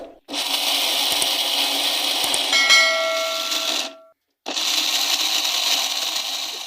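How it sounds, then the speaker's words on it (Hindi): An electric grinder coarsely grinds cashews, almonds and melon seeds in two loud whirring bursts, a rattling, ringing spin of a few seconds followed by a brief pause and a second run, with no talking. "इनको हम मोटा मोटा पीस लेंगे।"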